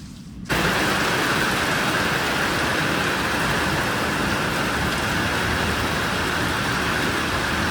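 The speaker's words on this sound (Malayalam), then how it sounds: "ഭയങ്കര മഴ വരുന്നു നല്ല തണുത്ത കാറ്റ്" Heavy rain arriving with a cold wind: after a brief quiet start, a loud, dense and unbroken roaring hiss sets in abruptly and holds steady to the end.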